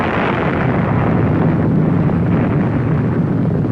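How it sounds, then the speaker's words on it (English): A deep, sustained roaring blast of an explosion, loud and continuous with rumbling low end throughout, no voices. "In the heat and force of massive explosions"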